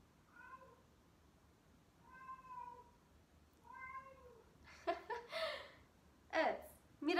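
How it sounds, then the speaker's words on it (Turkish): A cat meows three times at a steady pace, fairly close and clear, followed by a few bursts of human laughter and voices. "aradan miyavlama sesleri gelebilir"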